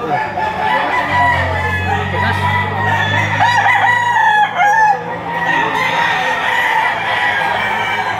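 White Kelso roosters and other fowl at an early-morning Saturday chicken market in Lipa, Batangas crow loudly and close by, one long crow dominating while hens cluck and a crowd murmurs around them.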